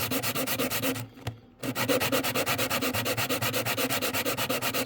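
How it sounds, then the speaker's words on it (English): Steady back-and-forth rasping of a small sanding sponge on 3D printed N scale bridge footers, a close, even rhythm of quick strokes with one brief pause partway through. "So just got this little sanding sponge."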